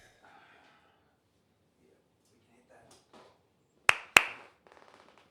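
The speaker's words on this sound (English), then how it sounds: "You want a little clap on, clap off?" Two sharp, loud hand claps in quick succession, followed by a softer rapid patter of smaller claps, with faint speech and quiet room sound before them.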